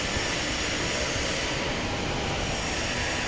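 A tape cutting machine for PVC, double-sided, masking and BOPP tape runs steadily in a factory, a loud, continuous broadband mechanical roar with no breaks or voices.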